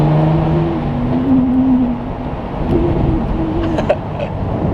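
A lowered Ford FG Falcon on coilovers rolls over a bump with a steady, close engine drone and a brief knock partway through.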